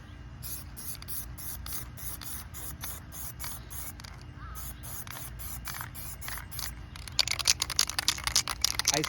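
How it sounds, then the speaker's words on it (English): An aerosol can of spray paint fires short, sharp hissing bursts in a quick stop-start rhythm close by while painting a caterpillar artwork, with the bursts growing denser and louder toward the end. "So by spraying behind it, I'm not spraying the aerosol underneath it."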